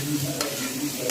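Onions sizzle in hot oil as they are stirred for paneer fried rice, with a constant frying hiss broken by a couple of quick scraping spoon strokes.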